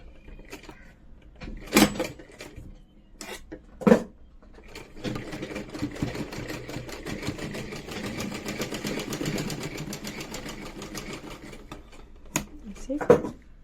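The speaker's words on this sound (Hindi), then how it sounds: "अब मैं यहाँ पर एक स्टिच लगाऊंगी।" A sewing machine stitches trouser fabric in a steady whirring run of about seven seconds, with a few sharp clunks and handling knocks before and after it.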